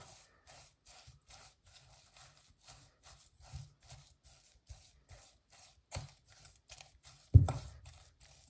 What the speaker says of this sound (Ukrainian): І гарненько будемо вмішувати все виделкою.